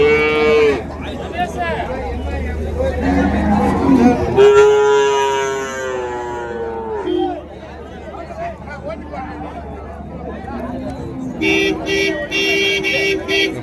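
Young calves moo loudly in long drawn-out calls, close by, amid busy chatter and background voices at the Uthangarai cattle market.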